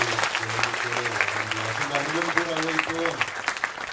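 Audience applause for a group of women at an Indonesian religious gathering, a steady crowd clapping under a man's speech or singing voice, moderately loud and continuous.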